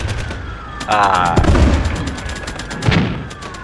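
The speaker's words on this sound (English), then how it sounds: "We take shots at this M3" Tank guns fire at an M3 Stuart during a WW2 desert battle between UK and Italian armor in a video game, with a couple of heavy booms amid rumbling engine noise and clattering battle sounds.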